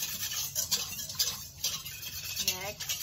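Tapioca flour batter stirred by hand in a bowl, soft irregular scraping and clinking of a utensil, close and fairly quiet, in short bursts.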